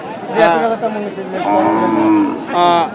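A cow moos loudly several times in long, drawn-out calls, close by at a cattle market, with a faint murmur of people in the background.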